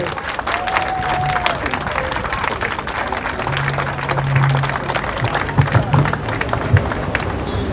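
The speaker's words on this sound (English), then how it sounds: "Give him a round of applause." Outdoor crowd applauding a local councillor at a street gathering about London road closures, steady clapping mixed with crowd murmur and some talk, a low hum entering partway through.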